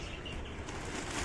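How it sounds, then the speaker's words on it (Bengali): Air rushes out of a vacuum storage bag packed with clothes as it is opened, a soft, steady hiss lasting just over a second at low volume. "হাওয়া বেরোচ্ছে, সাউন্ড হচ্ছে,"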